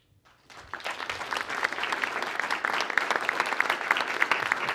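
Audience applause welcoming Tulsi Gabbard at a Hudson, New Hampshire Democrats town hall: sustained clapping from a room full of people that starts after a brief quiet moment and continues steadily, close and fairly loud.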